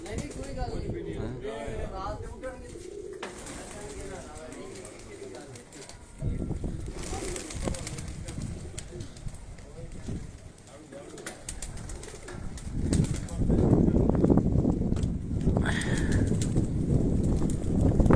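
Pigeons take off from a Karachi rooftop loft, wings flapping in bursts amid cooing and gusty wind, while someone talks close by over the birds.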